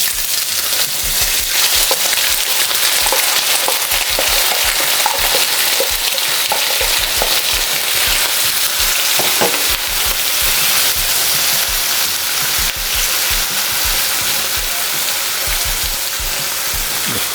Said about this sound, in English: Fry these for a couple minutes.